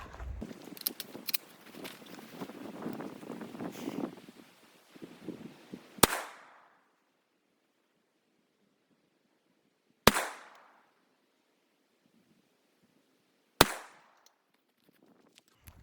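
Three rifle shots fired at a target, each a sharp, loud crack with a short echoing tail, spaced several seconds apart after a stretch of handling noise.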